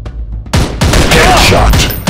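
Dense bursts of rapid gunfire fill a shooting video game battle, loud and continuous, with heavy overlapping shots and booms while shouted voices come through the din.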